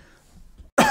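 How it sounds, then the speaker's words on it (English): A single sharp cough bursts out near the end, loud and close, after a stretch of faint room tone. "Excuse me while I have to cough a little bit."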